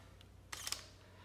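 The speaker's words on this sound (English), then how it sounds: "it's your typical digital creation simulating a shutter." Simulated electronic shutter of a Sony a7RII mirrorless camera firing once: a quiet, crisp digital click-clack heard close and alone against near silence.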